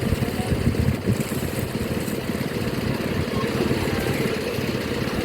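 A tractor engine runs steadily, a continuous low rumbling drone at a moderate level with no clear changes in pace and no talking over it.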